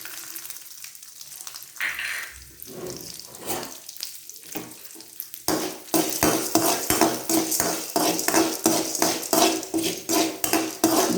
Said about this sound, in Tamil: ஜவ்வரிசி நல்லா பொரியட்டும்.